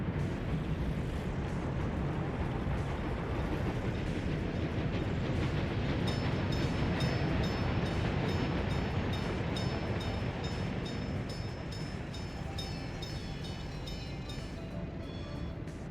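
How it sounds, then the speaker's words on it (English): A train rolls along tracks in a city-building video game, a continuous loud rumbling roar with faint rhythmic clatter, steady for the whole stretch and alone without talk. "Another train heading to a repair station."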